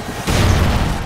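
An explosion from a helicopter attack in Call of Duty multiplayer on the Strike Zone map erupts suddenly as a loud, dense boom. It holds as a sustained, rumbling roar to the end.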